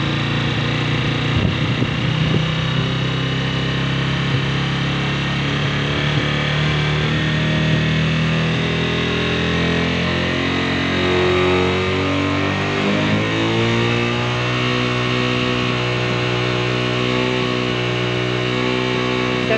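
A tricycle motorcycle engine runs steadily and is gradually revved to higher RPM. It sounds as a loud, continuous drone that shifts upward in pitch partway through, with no talking.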